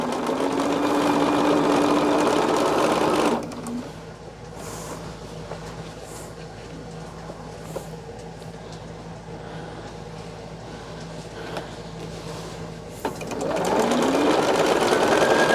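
A home sewing machine stitches a quilt, running steadily and loudly for a few seconds, pausing into quiet room tone, then starting up again near the end.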